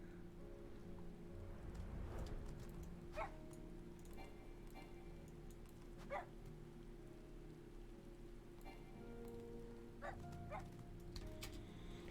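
A Shiba Inu flying dog mount in Final Fantasy XIV gives a few short, faint barks spread out over a steady rain-like background hiss, with no talking.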